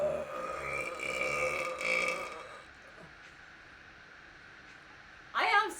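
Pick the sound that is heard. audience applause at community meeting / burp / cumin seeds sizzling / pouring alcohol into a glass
burp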